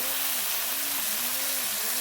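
A pan of brinjal and potato seasoned with salt and turmeric sizzles in a continuous, even hiss, with faint tonal hum from nearby and nobody speaking.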